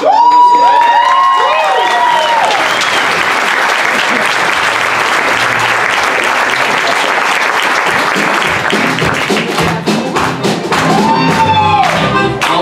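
An audience at a live music performance breaks into loud, sustained applause with some cheering, continuous for several seconds, with a bit of talking over the start and end.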